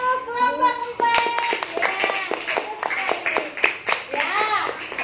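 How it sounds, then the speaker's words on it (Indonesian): A classroom of students claps for a presenting group, a burst of mixed hand claps with children's voices chattering over it throughout. "Oke, tepuk tangan untuk kelompok 4"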